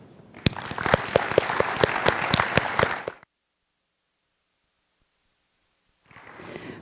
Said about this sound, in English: Please join me in one last applause for all of the teachers and faculty members here tonight